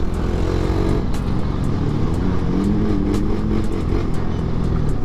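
Steady motorcycle engine drone while riding at night along a rough, potholed road under construction, with continuous rumble and wind noise, small throttle surges and faint rattles throughout, no talking.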